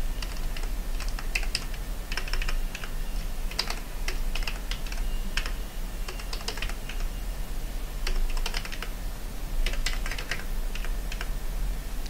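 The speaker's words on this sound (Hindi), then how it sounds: "मैं अभी एड्रेस डाल रहा हूँ।" Typing on a computer keyboard while entering an address into accounting software, with quick, irregular bursts of clicking keystrokes close by over a steady low hum and no speech.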